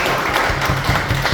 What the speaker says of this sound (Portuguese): peço uma salva de palmas aí